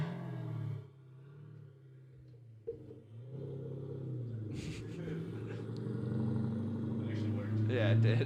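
A car rumbles past outside, with its engine rising and revving. The sound is moderately close and sits under ongoing conversation.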